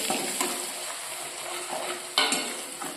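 Chillies, dried red chillies, salt and panch phoron spices sizzle steadily in a hot wok, with a continuous frying hiss, faint stirring scrapes and a sharp clink near the end.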